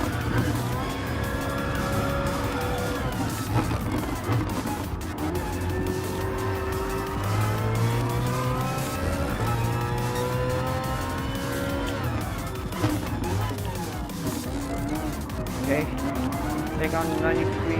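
A BMW M3 GT race car in Gran Turismo Sport drives hard around a track, its engine note climbing and falling through gear changes with tire squeal, steady and loud under continuous commentary.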